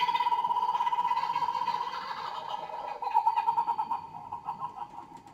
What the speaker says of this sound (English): That's the sound of a kookaburra.